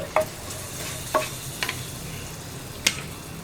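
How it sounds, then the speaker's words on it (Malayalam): Sambar powder being stirred into a pot of drumstick sambar off the heat, a few soft separate scrapes of a spoon against the pot over a quiet low hum, with no talking. "നന്നായിട്ടൊന്ന് ഇളക്കി മിക്സ് ചെയ്യുക."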